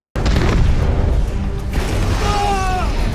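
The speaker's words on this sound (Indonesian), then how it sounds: "Zeppelin yang mereka tumpangi terbakar dan meledak" A burning zeppelin airship explodes in a film scene: one deep rumbling boom, then a drawn-out roar with creaking, groaning metal tones toward the end.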